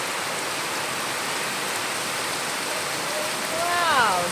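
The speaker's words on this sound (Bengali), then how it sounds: "আর বৃষ্টির জলের ফোঁটা পড়ছে কতটা সুন্দর।" Raindrops fall steadily on taro plants, a dense even hiss of rain that continues throughout, with a brief thin whistling tone near the end.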